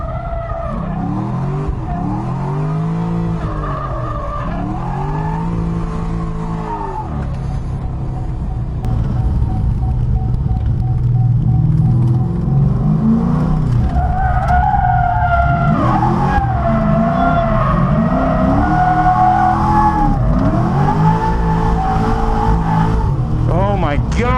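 A 489 whp C6 Corvette drifting, its engine roaring loudly and steadily with rising and falling revs while the tires skid and squeal continuously, close and dominant, with a voice speaking over it.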